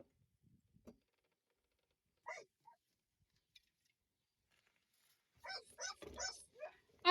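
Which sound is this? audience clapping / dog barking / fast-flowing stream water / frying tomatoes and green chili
dog barking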